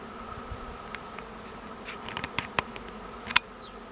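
Honey bees in weak colonies buzz around their hives on an early-spring day, with scattered short buzzing passes and a few sharper close fly-bys over a steady low background hum.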